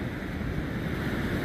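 Ocean waves surge and break steadily at the St Lucia estuary, a broad continuous wash with wind buffeting the microphone, loud and close throughout, no voices.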